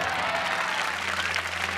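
A TV studio audience cheers and applauds, a dense, continuous wash of clapping and crowd noise that stays loud and steady throughout.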